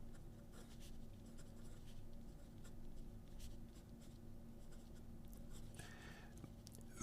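A Wing Sung 630 flat-top fountain pen with a wet nib writes on paper, giving a faint, steady scratching and gliding close up, with no voices.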